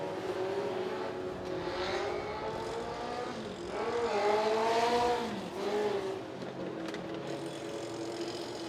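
Legends race cars circling Southside Speedway under caution behind a pace car, a steady droning chorus of engines that swells loudly as the pack passes near, then eases back, with no talk.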